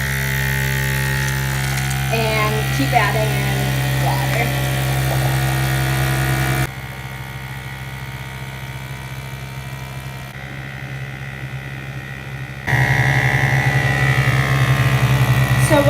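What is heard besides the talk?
battery vacuum pump running for field water filtration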